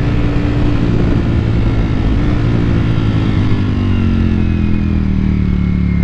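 A Ducati Panigale V4 S engine pulls hard in third gear while cresting a hill, a loud sustained roar with rising harmonic tones as revs climb, smooth and unbroken throughout with steady wind rush.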